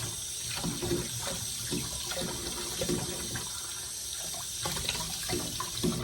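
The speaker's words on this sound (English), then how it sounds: "Let's rinse it with hot water." Knife blade rinsed under a running hot-water kitchen tap, a continuous splashing stream with irregular bursts as the blade moves through the flow, close and steady.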